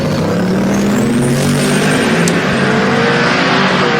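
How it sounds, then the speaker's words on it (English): A drag race pass between a 1994 Chevy Silverado truck and a Chevy Nova (Chevy II) supercharged hot rod at Sick Week 2024, engines roaring loud and continuous with a rising, sweeping pitch as the cars accelerate past. "here comes our next pair, the truck and the Nova."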